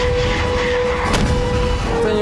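A 2S1 Gvozdika self-propelled howitzer fires during a live-fire exercise, one heavy, loud boom cracking out midway over a steady rumbling drone.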